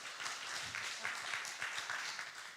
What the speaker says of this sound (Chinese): 请大家再给美月一个热烈的掌声